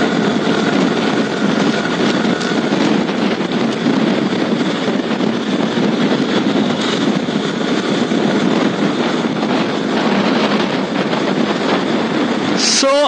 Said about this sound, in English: please enjoy the R15 version 3 rolling on the road